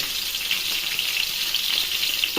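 Green chilies fry in hot oil for a tomato egg curry, giving a dense, continuous hiss and crackle that stays close and even throughout, with no talking.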